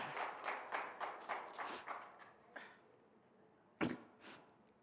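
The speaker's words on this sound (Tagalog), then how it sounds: "Isa nga pong malakas na palakpak ulit." Church congregation clapping at a live worship service, a run of irregular claps that thins out and fades, with a few scattered claps after a pause, fairly distant and not loud.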